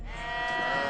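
A sheep bleats once in a film scene with a large flock, a single drawn-out wavering call heard close and alone.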